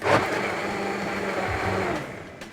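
A blender whirs steadily as it purées Scotch bonnet peppers, tatashe and onions into a spicy pizza sauce, with a loud motor drone that holds, dips briefly and then tapers off near the end.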